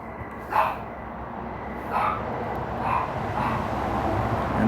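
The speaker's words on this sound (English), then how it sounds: "And the dogs go crazy." Dogs bark indoors in a few separated bursts at moderate distance, reacting to motion at a front door, with a steady background hum and no talk.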